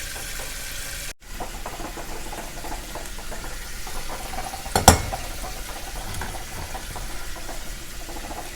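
Ears of corn blanch in a pot of boiling water, giving a steady, rushing bubble and hiss throughout, with a brief dip early on and a single sharp clunk near the middle.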